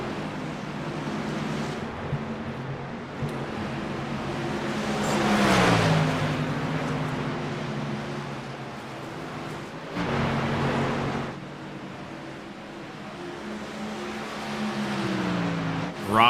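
A race truck in a Stars & Stripes Truck Series race at Rockingham pulls away from pit road, its engine note rising and sweeping past at mid-distance amid steady track noise, with no talk.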